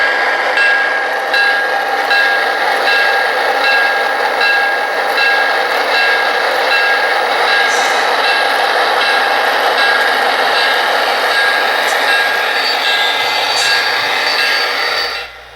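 A Broadway Limited Blue Line RSD-15 model diesel locomotive's onboard sound getting underway: a steady, loud, hissing engine rumble with a mechanical rasp that keeps on evenly for about fifteen seconds, no one talking.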